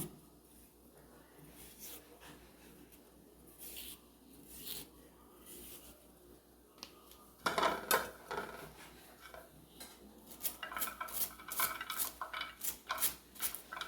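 A knife taps and scrapes through raw plantain peel on a board, scattered quiet clicks at first, then a denser run of sharper, quicker chopping strokes, close and fairly soft, with no voices.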